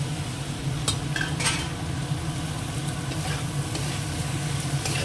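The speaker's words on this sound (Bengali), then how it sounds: "এই মশলাটা খুব সুন্দর কষানো হয়ে গেছে এবার আলুটা দিয়ে দেবো" Potatoes stirred into thick spice masala in a pan, a steady close sizzle of frying with scraping spoon strokes and light clinks, no voices.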